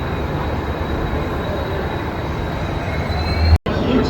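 Steady, loud rumble and rattle from inside the 12821 Shalimar–Puri Dhauli Superfast Express, a second-class seating coach, running on from Kharagpur toward Belda, with one brief dropout near the end.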